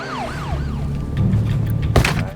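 An ambulance siren from the Korean film 1987 wails in rising and falling sweeps, then fades under a steady vehicle rumble, ending with a sharp thump.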